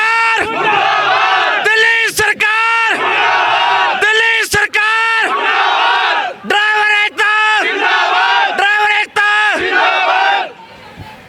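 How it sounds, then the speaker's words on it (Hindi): Striking cab drivers protesting the Delhi government at Jantar Mantar, Delhi, chant slogans as a loud crowd in rhythmic bursts of shouted call and response. "दिल्ली सरकार मुर्दाबाद के नारे लगाए जा रहे हैं"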